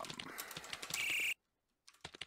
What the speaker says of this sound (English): Gives you some audible feedback as you're typing the correct key